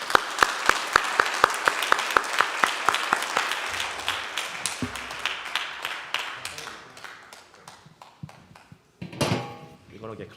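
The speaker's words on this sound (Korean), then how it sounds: "큰 박수로 환영해 주시면 감사하겠습니다" Applause greets a pastor-translator coming forward at an Easter church service, a burst of hand clapping that thins out and fades over several seconds, followed by scattered thumps and a short rustling burst near the end.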